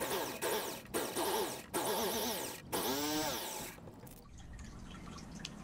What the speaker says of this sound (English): let's get to drilling out these eyeballs here